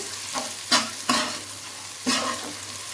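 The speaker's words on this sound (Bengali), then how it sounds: "পেঁয়াজটা আমার লাল লাল ভাজা ভাজা হয়ে গেছে" Onions fry to a reddish brown in a pan, a constant hiss broken by three distinct scraping stirs, close up and with no voices.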